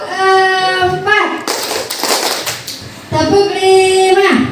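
Schoolchildren play a rhythmic counting clap game, a dense volley of hand claps near and loud, framed before and after by children's chanting voices.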